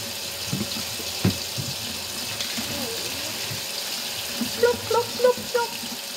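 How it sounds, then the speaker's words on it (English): Tap water runs steadily into a sink while hands are washed, with intermittent splashes and gurgles, soft and close in a home kitchen, with faint voices in the background. "the first step to do is to wash your hand"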